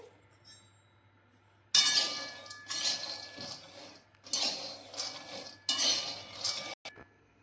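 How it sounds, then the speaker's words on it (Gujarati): Raw peanuts roasting in a dry pan for a milk shingpak sweet, stirred in four bursts of dry, gritty scraping and rattling, each lasting about a second, with quiet pauses between. "હવે આપણા દાણા શેકાય છે"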